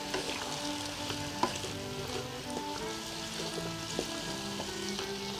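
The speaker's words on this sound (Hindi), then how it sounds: "इसको मैं भून रही हूँ।" Potato and fenugreek leaves fry with salt and red chilli in a pan, giving a steady close sizzle throughout with occasional utensil clinks and stirring scrapes, and no talk.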